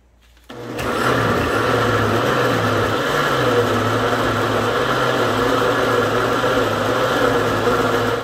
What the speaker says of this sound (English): And mix and then blend.